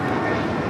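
Jet airplane roaring on takeoff from runway 25 Right at Los Angeles International Airport, a dense steady engine rumble, loud and continuous for a brief moment.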